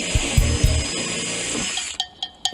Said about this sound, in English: why in the world would he destroy 2 locks with a drill